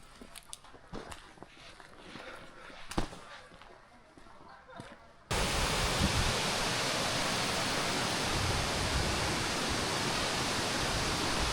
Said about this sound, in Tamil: பீமா ஃபால்ஸ்